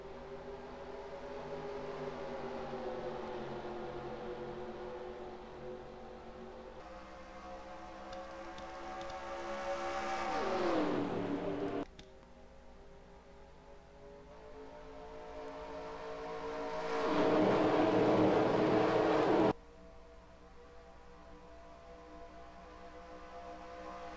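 Race car engines in NASCAR Racing 2003 at Talladega, a steady multi-car harmonic drone that swells twice as a pack roars past close by, then drops back to a continuous loud field hum.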